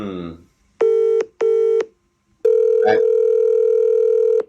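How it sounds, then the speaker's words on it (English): A deep electronic telephone ring tone sounds in two short beeps followed by a longer one, clear and close, after a brief voice at the start. "the ringtone over here is a deep, like beep, beep,"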